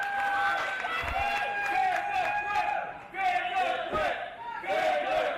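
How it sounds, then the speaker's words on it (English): An FSW wrestling crowd yells and cheers for Matt Vandagriff during a No Limits championship match, loud roaring voices with a few scattered claps, while a commentator talks over the noise. "FSW crowd here is coming unglued, showing their support for Matt"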